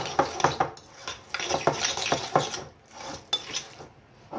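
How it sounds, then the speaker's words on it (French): A utensil stirs hand-cut beef tartare in a bowl, giving a run of close, sharp clinks and scrapes in an uneven rhythm with brief pauses between strokes. "On va bien mélanger."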